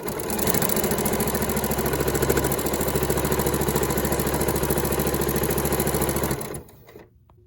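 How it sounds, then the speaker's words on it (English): Sewing machine stitching around a quilted fabric bag at a half-inch seam, a steady close mechanical whirr with rhythmic needle clatter that runs continuously for several seconds, then stops abruptly, with no talk. "So I'm going to sew along at a 1/2 inch seam allowance."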